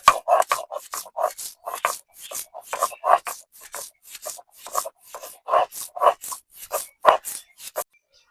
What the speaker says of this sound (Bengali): এখন এই চিংড়ি শুটকি গুলা বেটে নেব